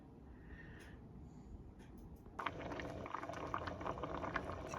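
Mung beans boil in a pot for a mung bean and shrimp stew, a low bubbling simmer that turns louder and denser partway through, steady and close with no talk.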